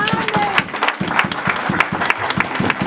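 A church congregation claps and cheers in praise during a worship service, with rhythmic clapping and raised voices mixed together, loud and close throughout.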